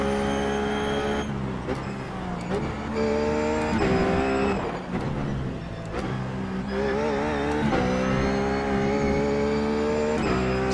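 A Ruf GT3 race car at Suzuka in the iRacing simulator, its engine whining loud and continuous through upshifts and downshifts, with revs rising and falling across the lap.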